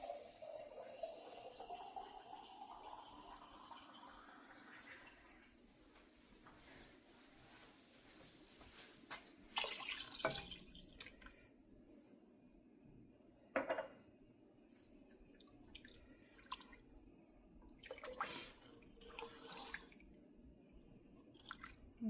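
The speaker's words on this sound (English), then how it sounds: "get my water from the Berkey" Water runs from a Berkey water filter in a home kitchen, a faint trickle and drip over soft clinks of dishes and cutlery, with a few louder knocks.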